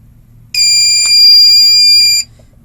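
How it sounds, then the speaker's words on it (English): A loud electronic alarm tone sounds for about a second and a half during a BattleBorn lithium battery load test under heavy current draw, a sustained shrill beep that starts and stops abruptly, with no talking. "that alarm is just a 15-second alarm"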